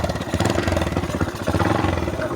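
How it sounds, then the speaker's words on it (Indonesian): Motorcycle engine sputtering and coughing with a juddering clutch, a close, rough, pulsing idle that wavers in level throughout with no talk. "Waduh, watuk motornya."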